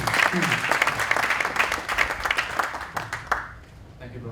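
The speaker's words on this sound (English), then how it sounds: "Give him a big applause" Applause for a speaker at a startup business talk, a dense crowd clapping that fills the room for about three seconds, then thins out and tapers off, with voices mixed into the clapping.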